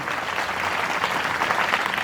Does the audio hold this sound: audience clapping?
yes